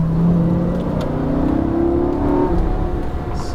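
A Lamborghini Gallardo engine revs at full throttle on a Las Vegas track, a close, loud, rising roar whose pitch climbs steadily before easing slightly near the end.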